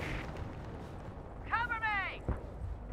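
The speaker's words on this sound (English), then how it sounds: "Hit them with a Panzerfaust!" A Panzerfaust anti-tank rocket hits its target in the Company of Heroes game, a short low blast and thump beneath a tonal voice line, amid rumbling battle noise.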